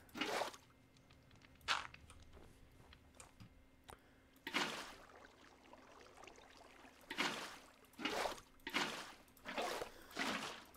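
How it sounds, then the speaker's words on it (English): Water being placed in the Minecraft video game, a set of short soft splashing and trickling bursts spread irregularly over quiet background, faint and close. "All I need to do is fill that with water."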